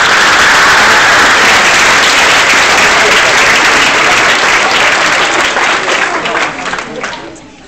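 Loud, dense applause from a hypnotist show audience at a college, steady for several seconds before tapering off near the end.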